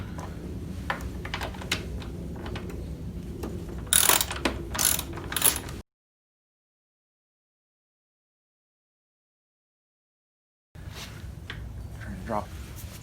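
Ratchet clicks while removing the screws from the silencer of a 2021 Husqvarna TE 300i motorcycle, a run of short close mechanical clicks with a louder burst partway, then silence before faint handling noises return.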